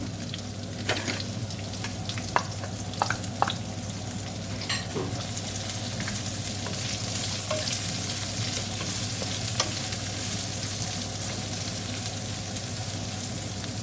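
Onions soften in a pan on a gas hob with mixed herbs, giving a continuous close frying sizzle with occasional faint clicks and stirs throughout.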